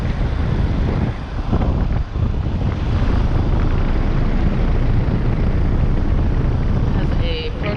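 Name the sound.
Carrier Comfort 15 heat pump running in heat mode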